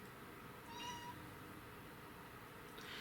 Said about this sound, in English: She at the door meowing.